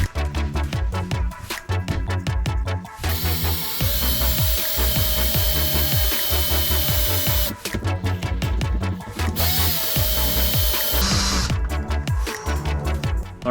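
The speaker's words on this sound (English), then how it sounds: "we've now drilled, so I used a 10mm metal drill bit" Loud, sustained drilling through a Toyota Coaster's metal roof with a 10mm metal bit, a power drill whining steadily in long bursts with brief pauses and a ratcheting, grinding edge.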